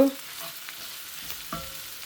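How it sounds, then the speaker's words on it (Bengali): Oil and onions sizzle in a pan of red amaranth greens as a spoon stirs, soft crackling frying with a couple of scraping stirs over a short stretch. "লাল শাকটার মধ্যে তেল আর পেঁয়াজ দিয়ে এখন বাগার দিয়ে দিলাম"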